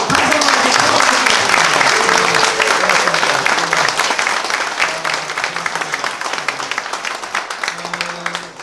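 Dense, loud applause from the audience at a Korean policy forum on animation as the next K-content, continuous clapping for over eight seconds with a voice speaking over it, gradually easing toward the end.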